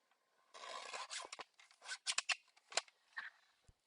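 Scissors snip and trim paper card during a watercolor card-making session: a longer rasping cut followed by several quick, crisp snips, close and clear with no talking.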